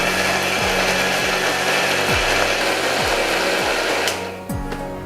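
A mixer grinder whirs loudly and continuously as it dry-churns biscuits with sugar, a dense close roar with rhythmic low pulses, easing slightly near the end, with no talk.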